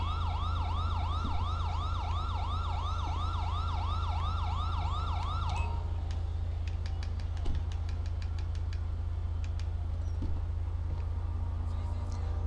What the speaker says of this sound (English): we're going to go ahead and turn off our sirens before we go nuts